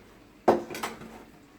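A metal pot set down onto a pan on a stovetop while making pasta: one sharp clank followed by a lighter second knock and a short ringing decay, alone in a quiet kitchen.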